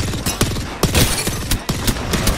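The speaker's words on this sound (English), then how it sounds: "I shot one bullet and took that." Gunshots in a shooter video game played on controller: several sharp, loud reports at irregular intervals over a busy, continuous game backdrop.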